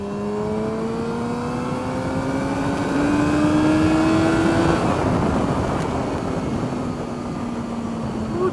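A car engine accelerates hard from inside the cabin, its tone climbing steadily in pitch to a loud peak, then dropping and settling into a lower, rougher roar as the car keeps moving.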